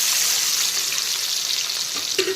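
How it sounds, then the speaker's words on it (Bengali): Chopped onion sizzles in hot oil in a wok with a dense, steady crackling hiss, close and fairly loud, with a faint clink near the end and no talking. "এখন আমি কড়াইতে দিয়ে দেব পেঁয়াজ কুচি।"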